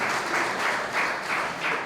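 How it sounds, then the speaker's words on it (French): An audience at an alumni gala applauding, a dense, even wash of clapping from a crowd, steady throughout the short burst. "Applaudissez-vous pour que l'école revienne."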